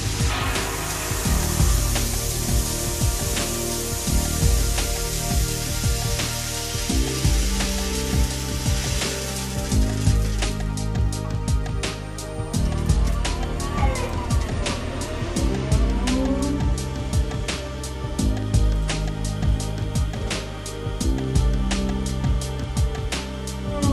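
A Walther Trowal TT centrifugal disc finishing machine has its work bowl loaded with parts, giving continuous loud mechanical whirring and dense clattering with steady rhythmic ticks throughout.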